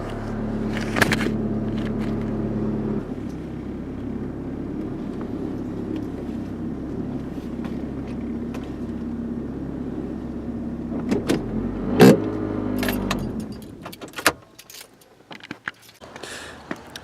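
A car engine hums steadily nearby while being reversed onto a home driveway, with a few clunks and rattles near the end before the engine cuts off and faint knocks follow.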